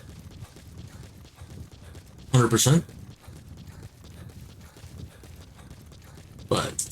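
A horse's hooves clip-clop at a steady pace in Metal Gear Solid V, close and rhythmic under intermittent talk, with two brief louder bursts.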